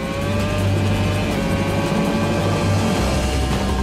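A Red Bull Formula 1 car engine from a 2010 simulator lap of the Istanbul circuit screams at high pitch, holding a loud, harmonic-rich wail that drops abruptly near the end as the revs change, with no voice.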